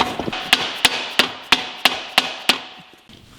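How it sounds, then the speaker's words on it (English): A hammer taps a metal part into place on a rear-wheel-drive GTI in a steady rhythm, about eight sharp ringing taps close by, each one decaying before the next. "We're just gonna tap this the rest of the way in with a hammer."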